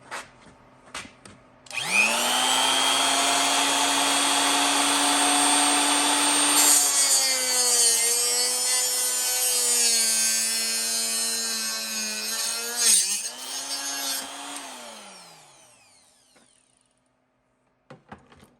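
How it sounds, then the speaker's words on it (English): A cutting wheel slices excess plastic off a cooler being made into a livewell, a loud, steady whining grind that runs about thirteen seconds, then winds down as the tool spins to a stop. "So now I'm going to cut the excess off here using a cutting wheel."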